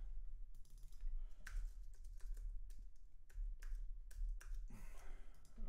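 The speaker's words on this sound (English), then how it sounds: "if I put in Joshua," Fingers type a name on a computer keyboard in a close, quick run of crisp key clicks with brief pauses between bursts, heard alone.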